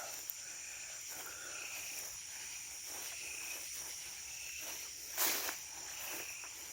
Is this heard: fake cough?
no